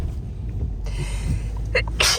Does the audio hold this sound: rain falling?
no